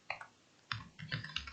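Typing on a computer keyboard in two short bursts of crisp key clicks with a pause between, close and quiet, with no voices.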